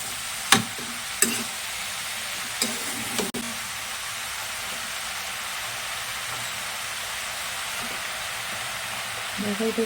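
Bottle gourd curry sizzling steadily in a pan as it is stirred, with a few sharp utensil clanks against the pan early on and soft scraping near the end.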